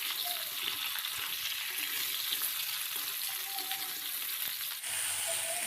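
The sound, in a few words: ridge gourd being stirred and fried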